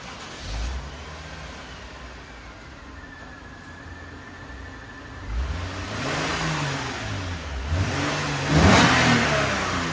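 A 2008 Lexus IS 250 2.5L V6 engine with stock exhaust revs up several times in short rises, fairly quiet and smooth, heard close by over a low idle with no voices.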